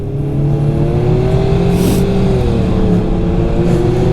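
A BRP snowmobile accelerating hard out of a corner on a Quebec trail, its engine droning loud and close with a steady rising whine that holds throughout.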